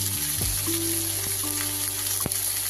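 Ground turmeric, chilli, coriander and cumin powders hitting hot oil over chopped tomato for a prawn curry, a loud steady sizzle close up with a few clinks of utensils and no voices.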